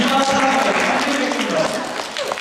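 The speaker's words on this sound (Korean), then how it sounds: "우리 박수 한번 칩시다" A church congregation breaks into applause, a dense burst of many hands clapping that fills the room and tapers slightly toward the end.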